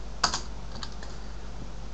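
A couple of quick, faint keystrokes on a computer keyboard, a sharp click followed by softer taps, over a steady low electrical hum with no talking.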